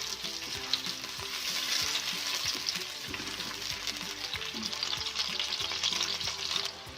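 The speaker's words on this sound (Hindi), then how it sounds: "Half cup cooking oil add करने के बाद हम इसमें अपनी प्याज ऐड कर देंगे। ये देखें, ये आप देख सकते हैं। इसको हम हल्का हल्का फ्राई करेंगे।" Onions sizzle and fry steadily in half a cup of hot cooking oil for a vegetable curry, a dense continuous crackle with soft stirring scrapes and clinks throughout, close and fairly loud, with no talking.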